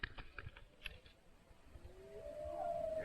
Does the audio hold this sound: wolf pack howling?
yes